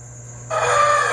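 A rooster crows loudly and close among young chickens, one sustained cock-a-doodle-doo call rising after a brief quiet start, with a steady background hum.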